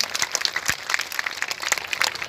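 Scattered, sparse hand claps from an audience at a BJP beneficiary conference in Biaora, applauding the chief minister's birthday. The claps are light and uneven throughout, over a faint room hum.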